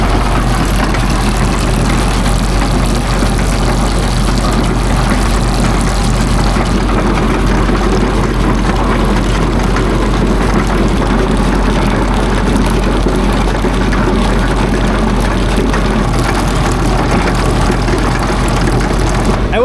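A repaired hay baler runs steadily, a loud constant mechanical drone with a deep low hum and busy rattling texture, unchanging and close for the whole stretch.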